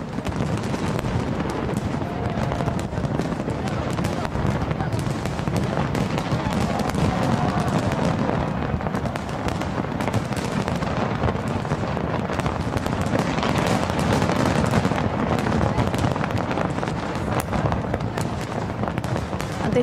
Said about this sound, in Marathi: 2024 या वर्षाचं स्वागत फटाक्यांच्या आतिषबाजीसह करण्यात आलेलं आहे